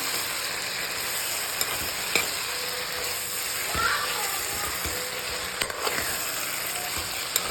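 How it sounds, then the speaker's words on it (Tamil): Tomatoes and onions sauté in a pan for bitter gourd kulambu, a continuous close sizzle broken by occasional scraping and stirring clicks, with no talk over it. "இதில் வந்து இந்த தக்காளி வெங்காயத்துலேயே இன்னும் கொஞ்சம் நேரம் வதக்கலாம்"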